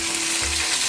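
Beef pieces fry in hot oil in a pan with onion, a loud, close, continuous sizzle with a brief low clatter of stirring partway through, and no voice.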